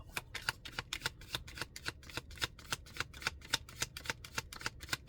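Tarot cards being shuffled in a fast, steady run of crisp riffling snaps, close and fairly loud, with no talking.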